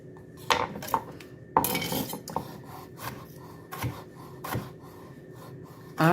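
A knife slices jalapeno peppers into small strips on a cutting board, producing sharp taps and scraping knocks at an irregular pace, with a few louder clacks of the blade against the board.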